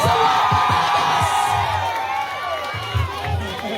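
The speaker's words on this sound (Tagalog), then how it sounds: "Malakas ang palakpakan, sigawan pa sa mga Batangas!" A large crowd at a political rally in Batangas cheers and shouts loudly, with whoops and yells rising over a steady roar and a few low thumps underneath.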